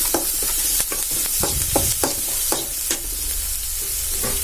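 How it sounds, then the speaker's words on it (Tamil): Onions sautéing in a pan for mango pachadi, a steady sizzle broken by repeated scraping strokes of a spatula stirring through the pan, close and fairly loud throughout. "அதையும் போட்டு நல்லா அப்படி வதக்கி விட்ருங்க"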